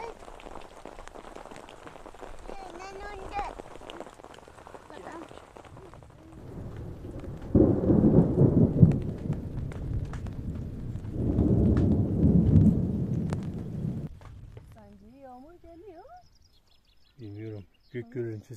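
A spring thunderstorm over a campsite, with rain pattering throughout and two long, deep thunder rumbles swelling in the middle; voices talk briefly near the end as the rumbling fades.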